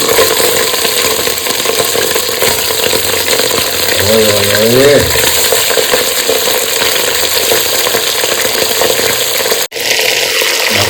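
Mutton pieces hitting a pan of frying spices give a loud, steady sizzle that stays near and continuous throughout, with a brief low hum partway through.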